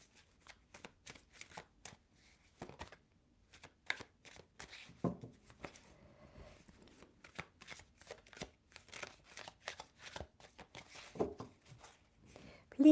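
Tarot cards being drawn and shuffled at close range: quick papery flicks and riffles in irregular bursts, with short pauses between, under quiet occasional speech.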